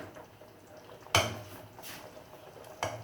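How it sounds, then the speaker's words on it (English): A spoon stirs food in a cooking pot, making a sharp metallic knock followed by a couple of softer scraping clinks against the pot, close and fairly quiet. "Bring it up, stir it."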